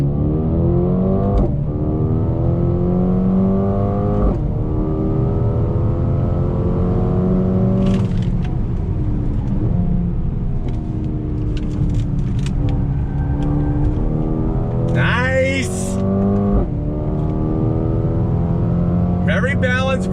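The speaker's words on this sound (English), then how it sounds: "I'm gonna manually shift with the paddles on throttle." A 2020 Mercedes-AMG A35 accelerates hard on throttle while paddle-shifted manually, its engine note climbing through several gears with sharp rises and brief drops at each upshift. The engine noise is loud and steady throughout.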